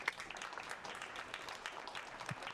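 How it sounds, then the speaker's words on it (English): Faint, steady applause from an audience for panelists at a SXSW 2024 panel at the Ukrainian House, a soft scattered patter of clapping sustained throughout without voices. "Can we get one more round of applause for our panelists"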